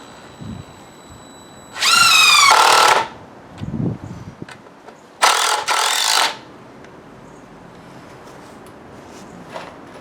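A power drill drives 8x3 screws into wood while a backyard storage shed is built, in two loud, close bursts of about a second each. The first has a rising whine, and faint handling knocks come between the bursts.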